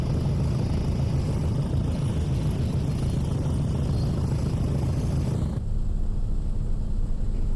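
A diesel train locomotive nicknamed the helicopter, or chopper, on the Tees Valley Line in Train Sim World 3 throbs loudly and steadily with a rapid, rotor-like chop, then shifts to a lower, more muffled drone near the end.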